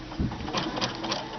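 A sewing machine with a fringe looping foot stitches a slow zigzag satin stitch, giving a close, steady mechanical whir with a rhythmic pulsing chatter over its short run.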